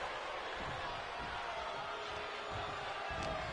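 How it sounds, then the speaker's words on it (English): A wrestling arena crowd in the video game WWE 2K25 roars in a dense, continuous wash of cheering and noise, steady and fairly faint throughout without clear individual voices. "What a raucous crowd here tonight."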